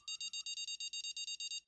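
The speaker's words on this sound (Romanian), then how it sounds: "Hai ca acum e da bip mai tare" Fishing bite alarm in the Fishing Planet video game beeping in a fast, steady series of about a dozen short, high electronic pulses, loud and clear with no talk over it.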